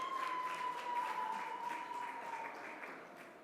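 Audience applause at a public sector debate competition grand final, a faint, steady patter of many hands clapping together that slowly tapers off.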